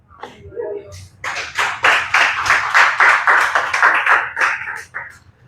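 A church congregation claps during a Spanish-language sermon, with loud, rhythmic clapping bursts that build after a brief pause and continue steadily, mixed with voices.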